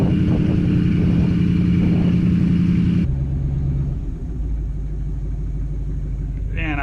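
A Ford dump truck idles as its PTO engages and the clutch is released, with a clear shift in the engine's rumble partway through as the hydraulic hoist begins lifting the bed. A person talks over it.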